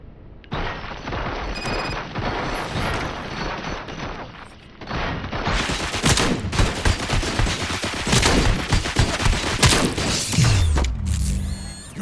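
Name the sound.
gunfire in Robocop: Rogue City video game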